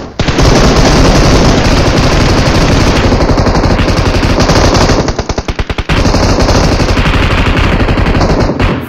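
Automatic gunfire in the PUBG video game, played on an iPad Air 3, blasts in loud, dense, sustained bursts of rapid shots, with a brief stuttering break before the firing resumes.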